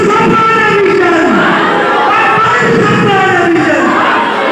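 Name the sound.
crowd chanting a response to a religious slogan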